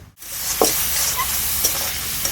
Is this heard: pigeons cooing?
no